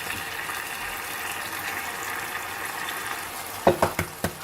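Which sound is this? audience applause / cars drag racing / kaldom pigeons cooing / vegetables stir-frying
vegetables stir-frying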